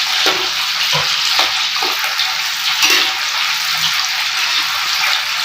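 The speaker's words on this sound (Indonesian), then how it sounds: "Tak goreng brambang terusan. Tak goreng kentang terusan ada brambin" Shallots and potatoes frying in hot oil give a loud, continuous hiss and sizzle close up, with occasional soft clinks and scrapes of stirring underneath.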